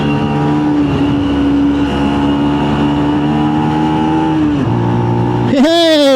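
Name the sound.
motorbike engine accelerating, shifting into third gear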